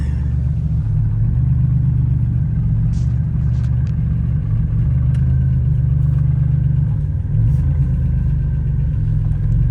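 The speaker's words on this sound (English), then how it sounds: "Got a lifter that's pretty loud." A freshly rebuilt stroker engine in a 1987 Buick Grand National idles cold with a steady low rumble, a few faint ticking taps from a loud lifter over it, running evenly and close up without any talking.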